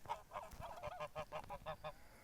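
A gander and a goose honk in a rapid, rhythmic series of nasal calls on a foggy pasture, close by, with no talk over them.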